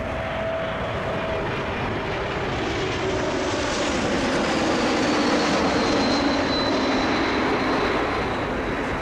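A loud, steady roar from an Embraer jet on final approach to land at Toronto Pearson airport, a broad continuous engine rush with a faint rising whine, heard from nearby at the airfield.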